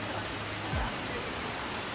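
Steady rain in Sri Lanka, a constant broadband hiss that stays even for the whole two seconds, with a faint low thump near the middle.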